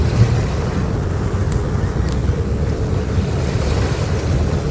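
Ocean waves on a Thai shore wash in a steady, continuous roar of surf mixed with wind noise, loud and unbroken throughout with no voices.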